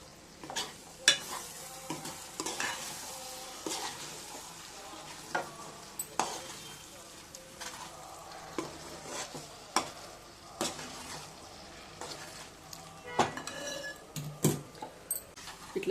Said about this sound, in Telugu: ఇప్పుడు మనము వేయించి పెట్టుకున్న ఎగ్స్ని ఆ వేడి మీద ఇట్లా గోంగూరలో మిక్స్ చేసేస్తున్నాను.